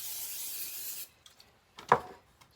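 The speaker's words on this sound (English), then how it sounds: "So I'm going to go ahead and spray it with some oil" Cooking oil sprayed from a can into a baking dish for stuffed zucchini boats: one steady hiss of about a second, close up, followed by quiet handling and a soft clunk.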